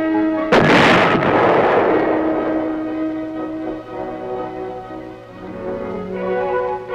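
Tank gun firing at Aberdeen Proving Ground: a single loud, close blast with a sharp onset, followed by a long rumbling, ringing decay and a mechanical hum as the weapon recoils.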